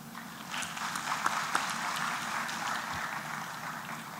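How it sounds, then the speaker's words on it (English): Audience at an East African petroleum conference and exhibition applauds in a moderate, continuous patter of clapping, with a few sharper individual claps standing out. "You may also clap for them."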